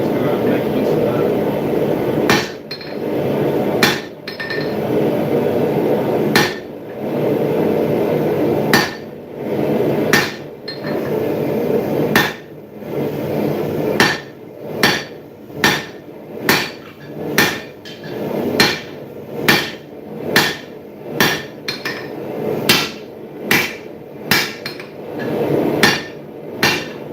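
Hammer blows on metal at a smithing anvil, working stock drawn out earlier; sharp, loud strikes arrive in irregular bursts, then settle into a steady, fairly quick rhythm of repeated ringing hits over a low background hum.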